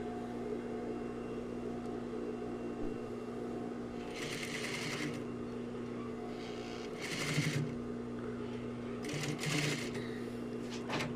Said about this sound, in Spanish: vamos a empezar a unir nuestro bies a medio centímetro